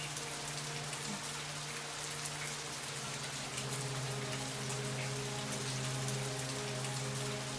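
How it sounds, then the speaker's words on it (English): Steady rain hisses in the Fatal Frame 3 PS2 horror game, a constant even patter with a low ambient hum underneath and no voices. "she referenced him being a gentle rain that washed things away, and it's raining"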